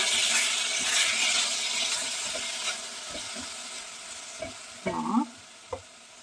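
Browned meat frying in a pan as it is turned, a bright steady sizzle with several distinct clatters and scrapes of a utensil against the pan, the hiss fading slightly afterward.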